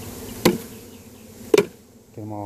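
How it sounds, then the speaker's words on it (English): A steady, faint buzz of many agitated queenless honey bees, including nurse bees, confined in a box for a few days, broken by two sharp knocks, then the buzzing swells louder and more tonal at the end. "I'm going to see bees that have been stuck in a box for a few days and the sound they make."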